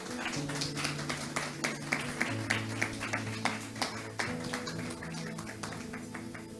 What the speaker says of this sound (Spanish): Dale un aplauso fuerte a Cristo Jesús.